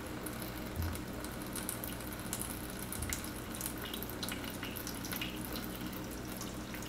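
Homemade tiger nut milk pours and drips through a regular kitchen strainer, a steady wet trickle and splashing that runs without pause, close by, with no voices.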